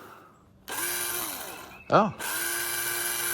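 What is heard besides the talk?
Black & Decker 6-volt drill running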